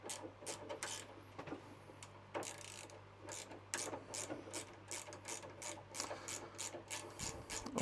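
Rapid clicking of a ratchet spanner loosening the bolts on a cylinder lawnmower handle, steady repeated ticks close up over a low hum, with no talking.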